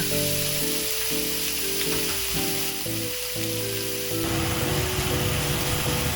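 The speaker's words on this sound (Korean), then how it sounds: "기름을 살짝 두르고 중강불에 목살을 올립니다." Pork neck frying in a little oil over medium-high heat, a loud continuous sizzle close up with clinks and scrapes of a utensil in the pan, the hiss growing louder and more crackly toward the end.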